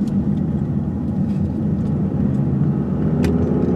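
A Chevrolet Malibu driving with a worn front wheel bearing, heard from inside as a steady low droning hum and road rumble that holds constant throughout, with no talking.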